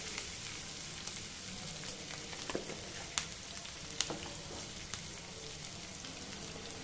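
Ingredients with turmeric fry in a pan for a citron uppudu pindi dish, a quiet, steady sizzle dotted with soft crackles and pops, with no talking.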